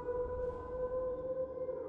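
Siren Head's siren wails in a farm-set horror video game, a steady droning tonal blare with held pitches, fairly quiet, with no talking over it.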